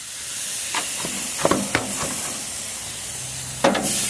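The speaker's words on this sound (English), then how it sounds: "You hear that sizzle." Marinated steaks hit a preheated grill and sizzle in a steady, dense hiss, with a few soft pops and clicks scattered through and a brief sharper crackle near the end.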